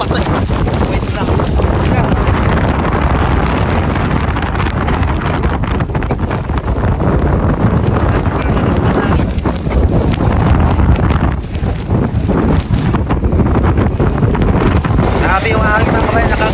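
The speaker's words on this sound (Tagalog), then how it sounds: "Grabe yung hangin mga kabayan." Fierce wind in Greenland roars and buffets the microphone continuously for the whole stretch, a dense, loud rush with no breaks.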